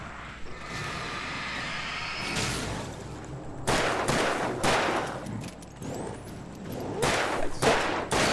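Gunfire in the video game Alan Wake Remastered: a burst of rapid shots, then a string of loud, sharp gunshots at irregular intervals over a constant low background hum.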